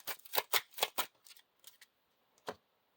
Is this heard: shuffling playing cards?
yes